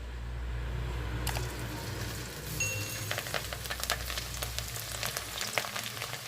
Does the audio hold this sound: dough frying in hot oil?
yes